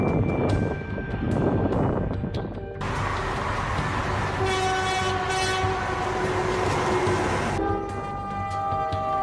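A train rumbles past loudly with a sustained horn blast, metallic wheel noise and steady rolling roar throughout.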